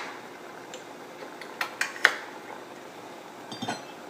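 A lid goes onto a pot of simmering beetroot and oats on a stove, giving a few quiet, sharp metallic clinks close together, then a softer clatter, over a low steady background hiss.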